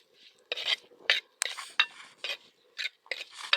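Tomatoes being stirred into fried ginger and garlic in a pan, a spoon scraping in short repeated strokes with rasping metallic clinks, close and fairly loud, no one talking.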